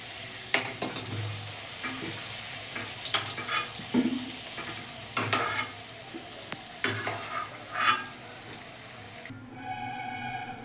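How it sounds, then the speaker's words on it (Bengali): Potatoes being stirred and lifted out of hot frying oil, with soft sizzling under repeated scraping and clattering strokes that come in short bursts. "আলু ভাজা হয়ে গেছে এখন আমি আলুগুলো উঠিয়ে নিচ্ছি"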